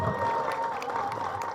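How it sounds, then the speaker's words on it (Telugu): Applause rings out from the crowd at a film audio launch event, many hands clapping steadily and fairly close, with faint cheering and a tonal hum underneath. "క్లాప్స్ కొట్టండి."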